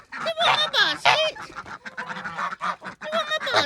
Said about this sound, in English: Miss Lucy Goosey loves her carrots, don't you, darling?